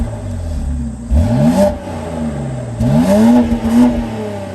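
A 2021 BMW X4M sport SUV engine revs twice in quick bursts, pitch sweeping up and falling back over a steady idle, loud and close with no talking.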